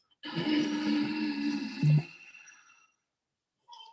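An ujjayi inhale draws in as a close, throaty breathing hiss that lasts about two seconds and then fades, followed by a faint brief sound.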